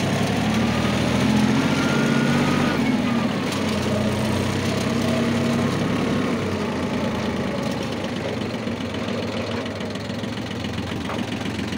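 A Yanmar YM1820 small tractor engine runs steadily in first gear, a loud, close, continuous diesel chug with a knocking rhythm that holds throughout without any voices.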